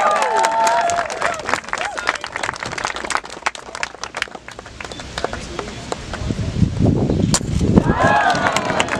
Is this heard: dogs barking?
no